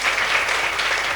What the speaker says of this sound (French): Est-ce qu'on peut applaudir une fois encore pour nos chers enfants?